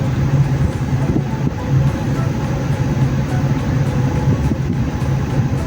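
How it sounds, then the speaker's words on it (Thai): A train arrives at Salaya railway station in Nakhon Pathom, Thailand: a loud, continuous low rumble and rolling rattle of rail cars that fills the whole stretch. "รถไฟมาแน่นอน"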